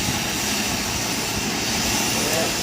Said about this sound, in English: that chopper is just getting started, ready to leave with the first three bodies.